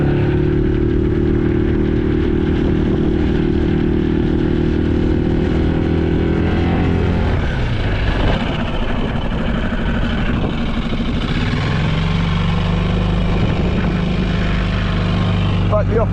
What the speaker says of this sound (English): going to check whole shot speed now. Let's see how quick we can get onto the plane.